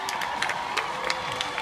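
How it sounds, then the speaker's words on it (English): A large crowd at a Cal State University Long Beach commencement applauds and cheers, a dense wash of clapping with scattered louder whoops, heard from within the audience. "please stand up so the graduates can give you a well-deserved round of applause"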